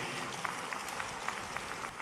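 Applause in an auditorium for the Chief Minister of Madhya Pradesh, a steady, faint wash of many hands clapping from a distance, even and continuous throughout.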